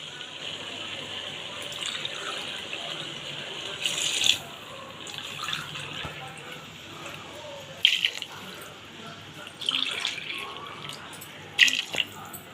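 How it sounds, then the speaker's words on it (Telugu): Water poured from glasses into a biryani pot, twelve glassfuls in all: a soft continuous trickle and splash with several louder gushing pours spaced a few seconds apart, close by and without talk. "12 గ్లాసులు నీళ్ళు పోస్తున్నాను"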